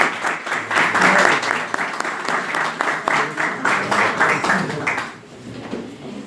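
An audience applauding a doctor at a legal debate on a special criminal procedure, dense loud clapping rolling for about five seconds before fading into a quieter room.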